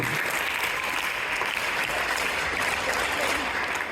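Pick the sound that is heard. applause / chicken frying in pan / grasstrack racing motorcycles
applause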